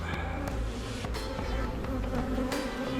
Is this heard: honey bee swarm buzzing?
yes